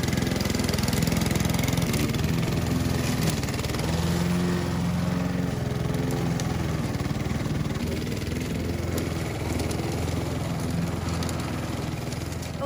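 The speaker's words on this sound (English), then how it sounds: "all my neighbors are out mowing the lawn, so you'll hear that in the background" Neighbors' lawn mowers drone outside in a suburban yard, a steady mid-pitched engine hum that runs without a break at moderate distance.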